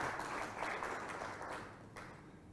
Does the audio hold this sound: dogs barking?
no